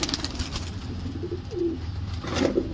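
Pigeons, including a Rajasthani pigeon, at a fancy pigeon market in Tolichowki, Hyderabad, give a few soft cooing calls at moderate distance over faint background noise, with no voices.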